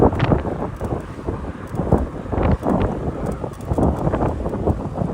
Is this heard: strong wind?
yes